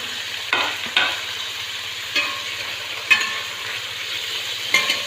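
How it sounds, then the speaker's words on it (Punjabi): Paneer pieces frying in moderately hot oil, a steady soft sizzle broken by a few sharper spatters and light stirring clicks, close and with no talk. "ਥੋੜੇ ਥੋੜੇ ਕਰਕੇ ਹੀ ਪੀਸ ਮੈਂ ਇਹਨਾਂ ਨੂੰ ਫਰਾਈ ਕਰਾਂਗੀ"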